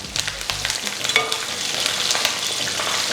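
Curry leaves and dried red chilies frying in hot oil for a green brinjal fry, a loud, dense, continuous crackling sizzle with a few low knocks at the start, close by.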